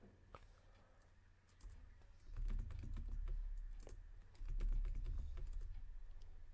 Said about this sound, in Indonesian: kalau kita langsung ketik password seperti ini